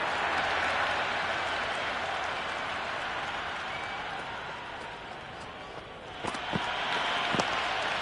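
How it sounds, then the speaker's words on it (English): Stadium crowd in the Cricket 26 video game during an India vs England T20 match, a dense continuous roar of cheering and applause that swells steadily with a couple of sharp bursts near the end. "The crowd is electric right now."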